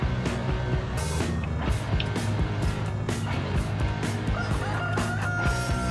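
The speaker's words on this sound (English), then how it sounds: "Whoa, look at that. Now we've got chickens." Chickens clucking and a rooster crowing in the video game Farming Simulator 19, a busy, steady mix over low synthetic background tones, with repeated short calls throughout.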